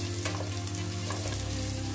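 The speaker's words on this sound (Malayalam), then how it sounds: "ഇഞ്ചി വെളുത്തുള്ളിയുടെയൊക്കെ പച്ചമണം മാറുന്നതുവരെ ഒന്ന് നന്നായി വഴറ്റിയെടുക്കണം." Ginger, garlic and garam masala sautéing in a pan for chicken biryani, giving a steady loud close sizzle with faint stirring scrapes throughout.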